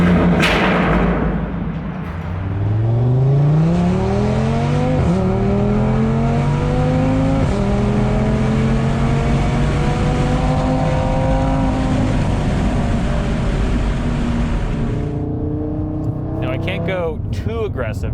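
Engine rising through the gears on a canyon road, revving up and shifting with climbing, stepped harmonics, loud and close throughout, then easing off near the end.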